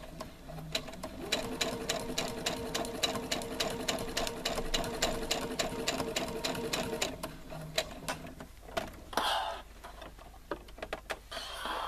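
A sewing machine stitches fabric for an e-book reader or tablet case in a fast, even rapid-fire run for about seven seconds, then stops, followed by scattered clicks and fabric handling, with no one talking.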